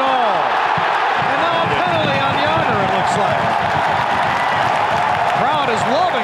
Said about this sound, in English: crowd is loving it here in Buffalo